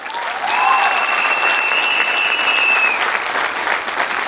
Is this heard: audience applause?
yes